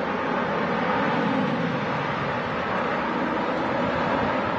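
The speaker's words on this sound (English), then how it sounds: "Airbus A321 on the way to Barcelona." An Airbus A321 airliner at Manchester Airport gives a steady, loud, broadband jet engine roar that holds level throughout, with no talk.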